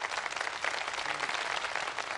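A studio audience claps together on a Pakistani television quiz show, a dense even patter of many hands held at moderate level for a couple of seconds.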